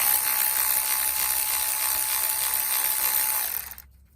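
A Milwaukee power tool whirs steadily at high speed while backing out small bolts from a Honda VTC cover, a close, buzzing tone that runs for several seconds then cuts off abruptly.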